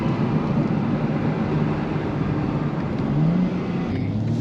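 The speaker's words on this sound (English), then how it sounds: "Do I hear a difference in the exhaust sound?" A BMW M3/M4 engine and exhaust drones steadily and fairly loudly as the car drives up Mt Faber, with a slight swell in pitch toward the end and no talk.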